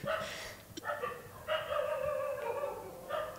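Several dogs bark and yelp outdoors in Mumbai, a run of sharp, overlapping barks and drawn-out cries at moderate distance, continuing steadily without any voices.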